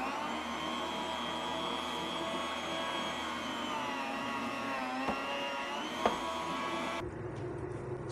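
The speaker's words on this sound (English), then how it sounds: "So I'm just going to carry on cutting my bacon." Homemade bacon being cut to a steady, droning mechanical whir with a faint pitch wobble and a couple of small clicks, ending abruptly near the close.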